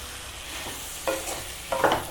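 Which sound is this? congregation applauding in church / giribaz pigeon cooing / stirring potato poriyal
stirring potato poriyal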